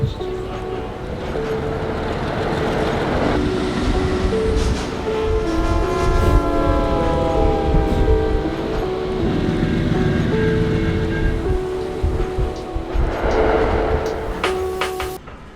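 The TranzAlpine passenger train in New Zealand rumbles along steadily, with rhythmic rail clatter and a loud horn sounding near the start and again near the end.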